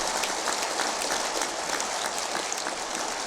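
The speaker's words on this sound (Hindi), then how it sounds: "देश के नाम पर ताली धीरे मत बजाना," An audience claps vigorously and continuously, a thick, even wash of many hands at steady loudness with no pauses.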